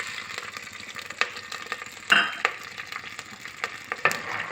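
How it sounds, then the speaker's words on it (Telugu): Tempering seeds crackle and sizzle in hot oil inside a clay pot while amaranth-leaf curry is being made, with steady frying hiss broken by sharp pops and spits, loudest around the middle and near the end. "వేడైనాక తాలింపు గింజలు"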